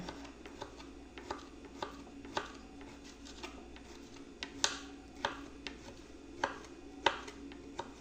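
A knife chops hotdog on a cutting board at home, sharp evenly spaced taps roughly every half second, close and fairly quiet against a faint background.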